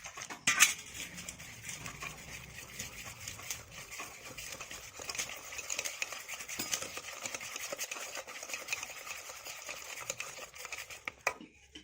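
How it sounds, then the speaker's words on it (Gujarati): A spoon stirs khandvi batter of gram flour and water in a bowl, making a busy, continuous run of light clinks and scrapes against the bowl, fairly close and without talk. "હવે આને પાણી નાખીને આપણે હલાવી દઈશું."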